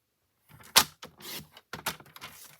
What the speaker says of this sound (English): I'm going to trim this down to 3 3/4